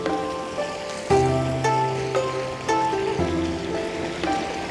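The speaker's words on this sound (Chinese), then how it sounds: "这山上到处都在流水。 这里也还有一条小溪" A clear mountain stream in the deep hills of Hunan runs steadily with a continuous rushing, splashing wash of water, moderately close, with no voices over it.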